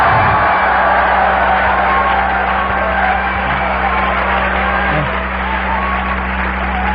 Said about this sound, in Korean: 자, 이번에는 함성과 함께 박수를 한번 해보겠습니다.